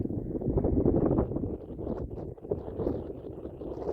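Low, blustery wind buffets the microphone in uneven gusts, louder at first and then easing into softer rumbling puffs.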